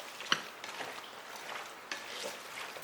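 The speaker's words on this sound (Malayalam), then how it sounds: "കുറച്ച് വെളിച്ചെണ്ണ, ആവശ്യത്തിന് ഉപ്പ്, ഇതെല്ലാം കൂടി നല്ലോണം ഒന്ന് നമുക്ക് യോജിപ്പിക്കാം" Raw meat is worked together by hand with fenugreek powder, coconut oil and salt for a Kerala-style roast. The mixing makes soft, wet squelching and shuffling, with a couple of brief clicks, all quiet and close.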